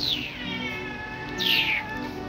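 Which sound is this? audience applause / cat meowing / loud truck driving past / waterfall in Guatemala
cat meowing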